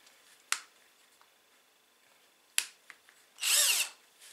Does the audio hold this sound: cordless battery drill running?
yes